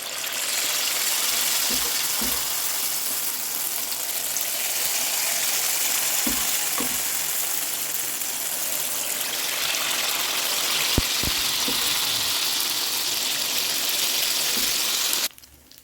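Unniyappam batter fries in ghee in a steady, even sizzle and bubble that lasts throughout, broken by a few soft clinks and knocks of utensils before it cuts off at the end.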